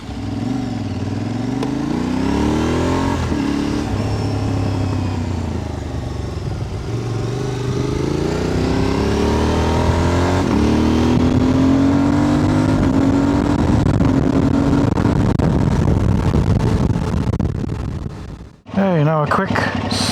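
A motorcycle ridden at speed, captured by a small clip-on microphone in a pocket, with a steady loud engine drone rising and falling through gear changes under constant heavy wind buffeting.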